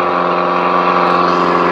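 A 2020 Mako 17 Pro skiff's outboard motor idles out of gear, a loud, steady, close-up droning hum with an even throb and no revving.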